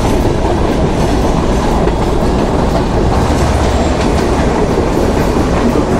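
The Drutojan Express, a Dhaka to Panchagarh intercity train hauled by an EMD broad gauge locomotive with Indian coaches, passes very close: a loud, continuous rumble and rhythmic wheel clatter with no voices.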